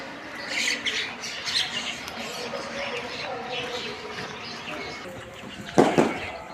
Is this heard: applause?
no